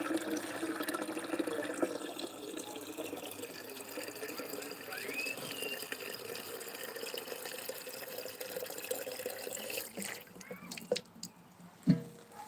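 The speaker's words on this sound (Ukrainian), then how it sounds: "Набираю воду." Water being drawn to irrigate watermelons in a backyard garden; a steady trickling, splashing flow runs throughout at moderate distance, followed by a few louder clunks near the end, with no talk.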